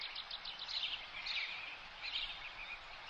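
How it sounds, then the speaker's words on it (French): Birds singing in a forest, with faint, continuous high chirps and trills that rise and fall over a soft, steady background. "Écoute les oiseaux chanter."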